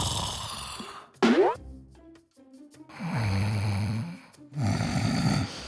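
A man sleeps and snores loudly and heavily, with long, rough, rasping breaths broken by a sharp nasal snort and brief quieter pauses between them.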